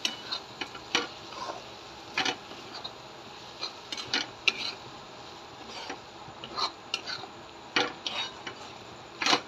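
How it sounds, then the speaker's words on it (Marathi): Crushed peanut powder being stirred into tomato chutney in a pan on a lit gas stove, a spoon scraping and ticking against the metal in irregular light strokes, close and fairly quiet. "आणि आपल्याला हा कूट व्यवस्थित ॲड करून घ्यायचा आहे."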